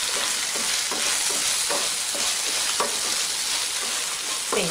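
Bitter gourd fry (kakarakaya vepudu) with turmeric and chili powder stirred in a pan, with a continuous bright sizzle and a regular series of spatula scrapes, close and fairly loud.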